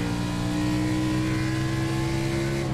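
A race car engine in the iRacing sim holds a steady, loud, even drone throughout, close and sustained with no talking.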